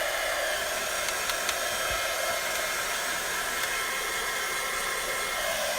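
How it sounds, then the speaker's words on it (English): A heat gun warming up for heat embossing blows a steady, loud, even rush of hot air that holds unchanged with no talking. "So let me grab my heat emboss, my heat gun."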